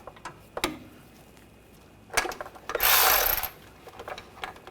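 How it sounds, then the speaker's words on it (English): A 17mm socket wrench working the timing belt tensioner on a Honda Pilot V6 gives a few sharp metallic clicks and clanks, then a sustained burst of ratcheting grind near the end, close and fairly loud. "I'm just going to use the 17mm socket and just move the tensioner out of the way"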